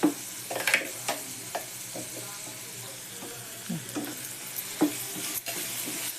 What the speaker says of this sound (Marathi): परतून घेते मस्त.